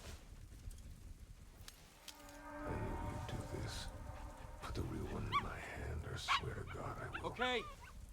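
Dog barking in the video game Dispatch, a few sharp yelps and barks standing out late in the moment over game noise, music and speech.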